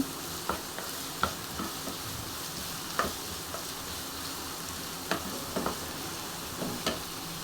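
Cluster beans and onion frying over medium gas sizzle steadily up close, broken by irregular scraping stirs and soft utensil knocks.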